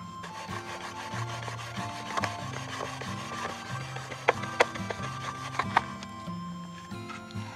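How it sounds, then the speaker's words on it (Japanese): Bamboo rubbed sideways against a notched bamboo piece for friction fire-making, a dry rasping scrape repeating in steady strokes, close and fairly quiet, with a few sharper knocks near the end. "端の部分とこの切り込みを合わせまして、 こう横にこすって摩擦をする という 方法なんですが"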